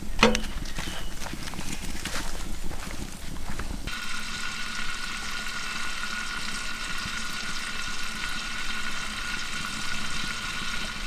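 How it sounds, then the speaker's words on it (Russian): Homemade butter sizzles and crackles steadily in a hot kazan, a constant frying hiss with some clattering at the start. "Будем жарить на домашнем сливочном масле. Закидываем его в казан."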